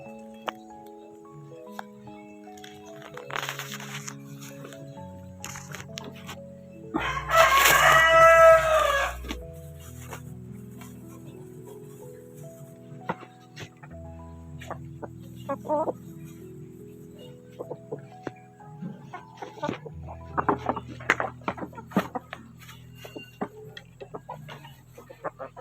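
Several backyard chickens cluck and call while eating scraps, with one loud burst of crowing and squawking in the middle and scattered softer clucks and pecking noises around it.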